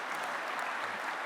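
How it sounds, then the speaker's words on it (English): An audience at a community panel gives a round of applause, a brief, even burst of many hands clapping, moderately distant and soft, with no talking over it. "Let's give them a round of applause."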